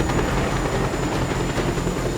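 A steady, loud airplane engine drone from the game Just Cause 2, a dense continuous roar with no breaks and no voices over it.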